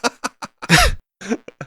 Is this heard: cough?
yes